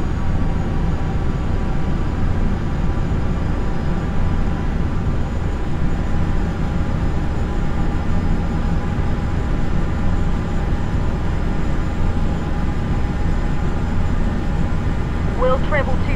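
Airliner engine drone in flight in Flight Simulator X, a constant loud broadband hum with steady tonal whine running unchanged throughout, with faint radio chatter near the end.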